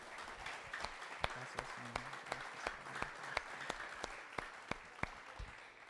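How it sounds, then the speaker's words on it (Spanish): A church congregation applauds steadily, a dense wash of clapping with a few sharper, louder individual claps standing out over several seconds. "Dele el aplauso al Señor"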